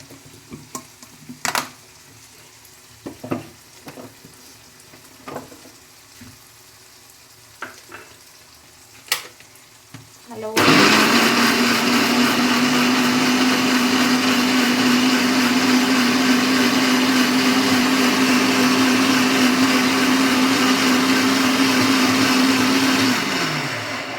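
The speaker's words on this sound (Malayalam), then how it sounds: "നമുക്ക് പച്ചരി നമ്മുടെ മിക്സിയുടെ ജാ ജാറിലേക്ക് ഇട്ട് അരച്ചു കൊടുക്കാം" Electric mixer grinder grinding soaked raw rice for batter, preceded by several sharp knocks and handling clicks, then a loud, close, steady motor whine that runs unbroken and winds down at the end.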